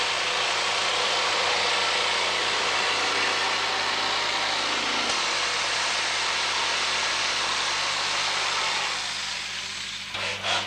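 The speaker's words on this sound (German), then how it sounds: "Die Umrisse der Teile werden mit Blaupapier auf die Platten übertragen und anschließend mit einer Stichsäge ausgeschnitten." A jigsaw cuts Rohacell foam board, a steady buzzing, hissing saw drone that holds evenly for most of the stretch, then tapers off and stops near the end.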